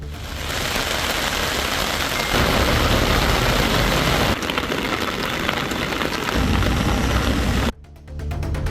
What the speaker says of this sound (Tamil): பெருமாள் மலை, பண்ணைக்காடு, தாண்டிக்குடி உள்ளிட்ட பல்வேறு மலை கிராமங்களில் மழை தொடர்ந்து பெய்தது.